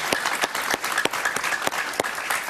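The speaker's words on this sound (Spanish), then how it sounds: "Un aplauso para ella, por favor." A studio audience on a Spanish-language talk show applauds a guest senator with steady, dense clapping and a few sharper individual claps, lively and close throughout.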